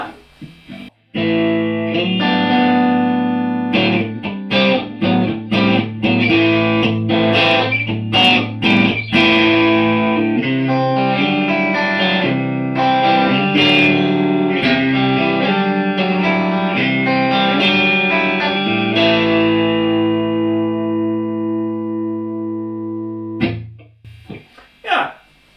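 A Fender Stratocaster electric guitar plays a run of picked chords and single notes with a bright, slightly driven tone, continuous for about twenty seconds before fading out.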